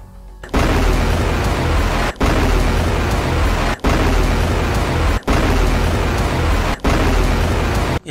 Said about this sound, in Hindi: इसके बाद मिशहर बेस पर रॉकेटों का जत्था फायर किया गया।